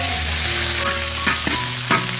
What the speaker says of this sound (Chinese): 锅里油热，我们放入葱姜蒜